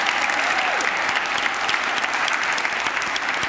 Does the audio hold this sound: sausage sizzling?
no